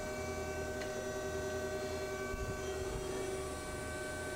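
The spindle of an Okuma Howa ACT-35 CNC lathe runs at 1000 RPM with a steady, faint tonal whine over a low hum. A few light clicks sound partway through.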